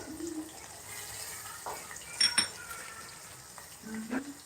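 A spoon scrapes and clinks against a cooking pot while spices and desi garlic are stirred, with a few sharp metallic taps and a soft sizzle in a home kitchen.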